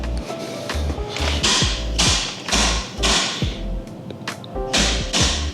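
A mallet knocks a car seat part past a notch in a Porsche 997 interior, a string of loud, close thuds and sharp knocks repeating irregularly with brief scraping in between.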